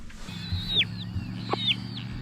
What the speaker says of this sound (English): This is our mama hen,